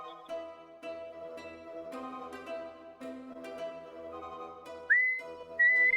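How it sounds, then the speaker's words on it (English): Someone whistles during a tabletop Dungeons and Dragons session, with sustained tones over a quiet background of music, becoming louder and higher near the end. "No whistling, no whistling, no whistling. That sounds horrible."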